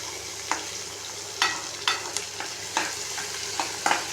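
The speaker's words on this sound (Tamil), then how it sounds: "அடுப்பை நல்லா ஹையில் வச்சு வதக்கணும்" Onions sautéing in a pan over high heat, with a steady sizzle and scattered sharp scraping bursts from stirring at irregular intervals, close up with no voices.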